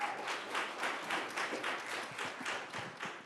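Scattered clapping from a small group at a school district board of trustees meeting, fairly steady hand claps over a few seconds with no one talking.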